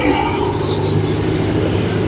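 A train passing a level crossing in Jhelum, a loud, close, continuous rumble of wheels and carriages on the rails.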